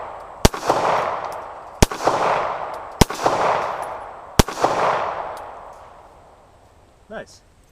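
Four sharp shots from a 1970s Star BM 9mm pistol at an outdoor range at sunset, fired at a spaced, unhurried pace, each loud crack trailing into a long fading echo, with a brief voice near the end.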